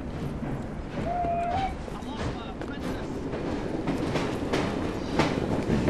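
A train rolls along in Assassin's Creed Syndicate, a steady rumbling clatter of wheels and carriages with a faint brief squeal, continuous and fairly close throughout.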